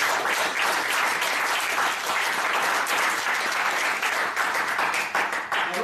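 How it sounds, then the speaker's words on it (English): An audience at a Toastmasters club meeting claps for Toastmaster Nadi: steady, full applause that stays close and even throughout, with no speech. "a big round of applause for Toastmaster Nadi"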